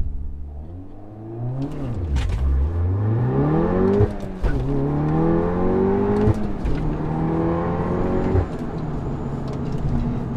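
An APR Stage 2 tuned VW Golf R launching hard from a standstill and accelerating toward 60 mph, engine revving through rising pitch sweeps with brief dips at gear changes, loud and close from inside the cabin, no talking.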